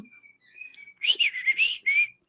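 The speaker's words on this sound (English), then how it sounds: "Do you hear my bird whistling?" A pet bird whistles in bright, clear tonal phrases, a thin sustained note first, then a louder run of rapid warbling bursts and a final trill, close and alone without any talk.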